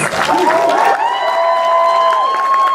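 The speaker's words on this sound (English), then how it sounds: "Can you give it up for our judges?" Clapping and cheering from a costume-contest audience greeting the judges, with a few drawn-out whoops and shouts riding over steady, close applause.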